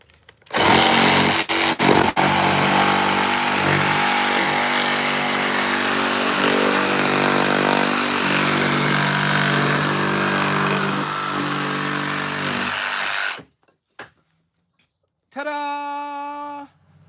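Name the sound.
power saw making curved cuts in wood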